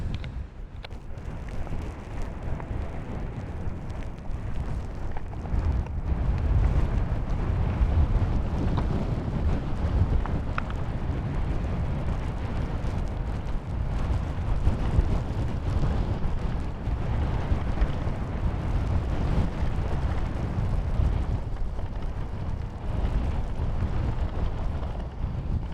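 Strong headwind on a long Scottish ridgeline during an e-bike Munro ride roars and buffets the microphone without a break, with heavy low rumble and gusty thumps.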